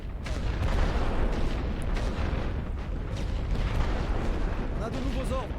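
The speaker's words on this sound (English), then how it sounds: "I'm going to try to hit that machine gun directly with heavy artillery." Heavy artillery barrage on a World War I Western Front battlefield in the strategy game The Great War, a dense continuous rumble of booming shell fire with a voice talking over it.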